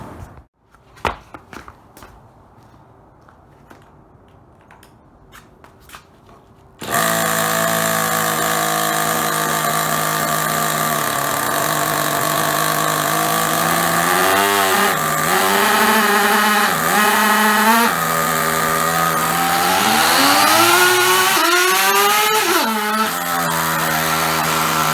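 A Tamiya Terra Crusher RC truck with a FRAT two-speed transmission starts after quiet handling noises, then a loud, steady motor whine runs and rises and falls repeatedly as the truck accelerates and shifts gears.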